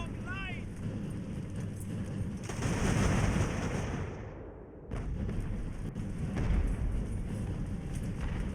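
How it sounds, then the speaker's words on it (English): Naval cannon fire in the Age of Sail game Ultimate Admiral: a dense, continuous rumble of booming broadside shots, with a sharp surge of heavy blasts in the middle and a brief lull before the firing resumes. "Let's get the remaining cannons on them."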